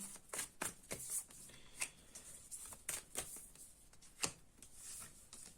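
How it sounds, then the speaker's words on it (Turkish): Tarot cards being shuffled and drawn make a series of quick, crisp riffling flicks and soft slaps. They come in irregular bursts and sound close and fairly quiet, with no talking. "Şimdi bir de ona kart çekeceğim ayrıca"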